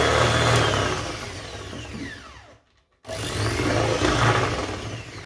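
An electric mixer whirs loudly and steadily through magdalena cake batter, stops briefly for about half a second, then starts up again at the same close, buzzing intensity.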